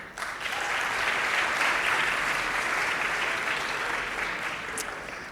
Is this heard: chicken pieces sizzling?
no